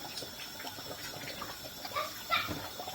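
Dried ingredient for a native soup being rinsed and swirled in water, with steady close splashing and trickling, plus a brief sharper slosh near the end.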